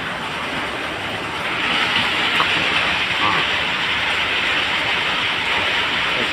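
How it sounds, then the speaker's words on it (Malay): Heavy wind-driven rain in Kuching, heard from a hut, a continuous dense hiss that swells after the first couple of seconds and stays steady and close throughout. "Ini hujan dibawa oleh angin"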